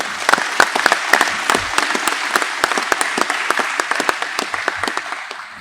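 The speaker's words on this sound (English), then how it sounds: "If we could give them a round of applause." A graduation ceremony crowd claps for graduates, with close, loud and sharp individual claps that form steady applause and thin out slightly toward the end.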